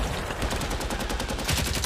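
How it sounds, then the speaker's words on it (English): A Sherman tank fires its main gun down a street and the shell strikes a building at the far end, rendered as a dense, continuous barrage of sharp, loud repeated blasts with rumbling low end throughout. "The Sherman fires and the shell strikes a building at the end of the street"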